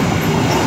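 An empty coal freight train rolls past close by, its wagons producing a loud, dense rumbling roar with a steady wheel clatter.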